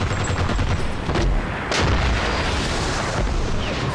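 Artillery fire in the tank wargame Armored Brigade II, loud booming shots and rumbling impacts filling the scene, with a sharp blast near the middle over continuous battlefield din.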